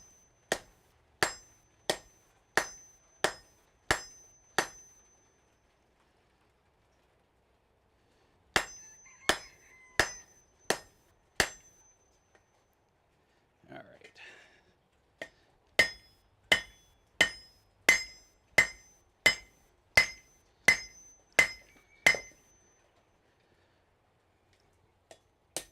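Hot metal is hammered for a forge weld in a smithy: three bursts of sharp, ringing hammer blows, six to eight strikes each in a quick steady rhythm, separated by quiet pauses.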